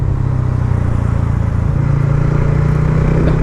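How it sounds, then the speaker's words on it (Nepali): A modified Royal Enfield Scrambler 400X engine idles loud and close, a deep, steady thumping rumble held at an even pitch throughout without revving or speech. "मलाई त मेरै बाइकको साउन्ड क्या दामी मिठो लाग्न थाल्यो भने यार"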